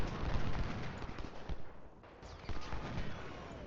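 Dense volleys of rifle and cannon fire from a Civil War battle video game, continuous crackling shots and booms layered throughout, with a brief lull midway before the firing resumes.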